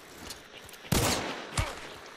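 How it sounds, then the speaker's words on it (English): Pistol shots ring out in a video game, two sharp reports about half a second apart, the first louder with a short decaying tail. "Pistol."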